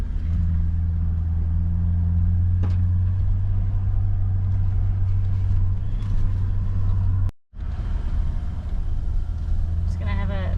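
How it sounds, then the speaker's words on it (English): A vehicle drives slowly through Dilly Village, a private camp area on Fraser Island, its low engine rumble steady and close throughout, with a brief dropout near the end and people talking over it. "Just gonna have a drive through Dilly Village"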